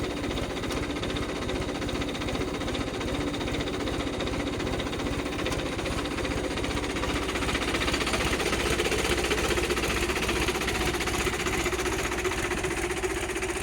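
A Mahindra 395 Super Turbo tractor engine running close by, a loud, steady, rapid diesel chugging and clatter that holds even throughout, with no talk.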